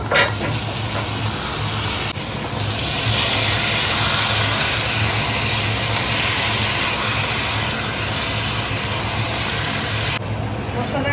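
Pieces of country chicken hit hot oil seasoned with cumin powder and spices, setting off a loud, steady, close sizzle that starts abruptly, holds for about eight seconds, then cuts off sharply.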